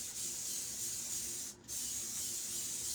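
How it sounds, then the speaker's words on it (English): A long, steady hiss of a spray bottle close by, spraying chemical solution onto a transfer, broken by one brief pause before the spraying resumes. "spraying my transfer with my chemical solution"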